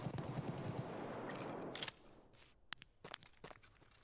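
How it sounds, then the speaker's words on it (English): Assault rifle fire in the video game Escape from Tarkov: a quiet, rapid volley of shots for about two seconds, followed by scattered faint clicks and footstep-like crunches. "now he's just shooting with an assault rifle or whatever it was"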